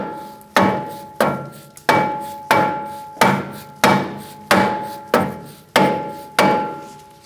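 A hammer taps a rusted rear brake rotor on a 2008–2014 Mercedes-Benz C300, about ten evenly spaced, loud metallic knocks, each with a short ringing tail, with no talking.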